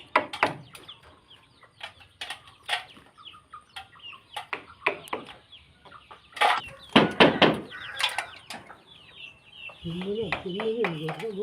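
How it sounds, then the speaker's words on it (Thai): Chickens pecking at scattered rice in the morning, with scattered clucks and short calls close by, someone speaking at the end. "ไก่ก็มาเก็บกินข้าวด้วย หวานข้าวให้ไก่"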